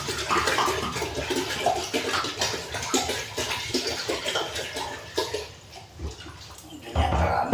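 Water splashes steadily into a pot for making coffee, a continuous rushing pour lasting several seconds before easing and briefly resuming, with no voices.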